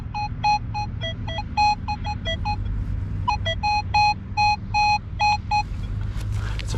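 Metal detector beeps over a shallow zinc penny in the ground, a series of loud, short, pitched tones in quick irregular bursts above a steady low rumble, with a pause in the middle.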